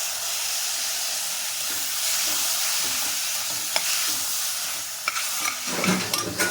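Tomatoes added to fried onions sizzle in a pan for a vegetable kurma, a bright steady hiss punctuated by scraping stirs that grow busier and louder near the end, with no talking.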